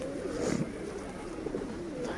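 Low, soft wild pigeon coos murmuring steadily and close by, with light rustling underneath and no talking.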